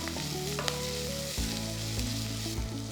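Green chillies sizzle steadily in a hot pan for a Madghout dish, a continuous close frying hiss with faint stirring and no voices.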